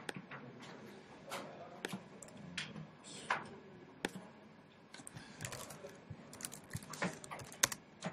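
Someone types on a computer keyboard with quiet, irregular clicks and taps that come in quick runs and short pauses. The sound is close by, and no one talks.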